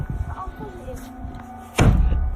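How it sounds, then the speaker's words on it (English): A door slams shut with one loud, sharp thud that cuts through murmured talk and background noise. "the door slams behind them"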